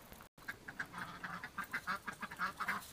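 A flock of ducks quacking in a steady series of short, raspy calls, close by and fairly loud, with a brief dropout near the start.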